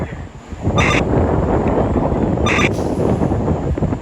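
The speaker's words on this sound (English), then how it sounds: "Wind driven too because it's very windy." Strong gusting wind roars steadily across the microphone at a major multiple-alarm fire in a residential building, a dense continuous rumble with brief high-pitched bursts cutting through twice.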